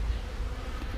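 Honeybees buzz densely around a hive frame, a steady close swarm hum with no voices.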